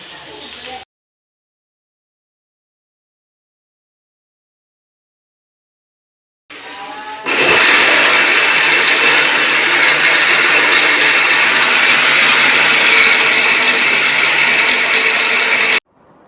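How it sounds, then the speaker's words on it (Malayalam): An electric mixer grinder running on Elite roasted semolina (rava), a loud steady whirring roar that starts abruptly after a long silence and holds for about eight seconds before cutting off. "അത് നമുക്ക് മിക്സിയിൽ ഇട്ട് കൊടുക്കാം"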